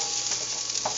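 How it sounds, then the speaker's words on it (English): Asparagus sautés in a pan, giving a bright continuous sizzle with faint scrapes of stirring, close and steady, with no voices. "And I'm just going to keep on stirring it."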